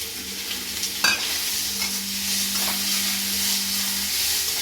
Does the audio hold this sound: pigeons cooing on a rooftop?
no